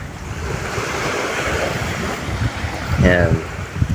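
Sea waves wash steadily against a breezy shore, with gusting wind rumbling across the microphone, and a voice briefly speaks near the end.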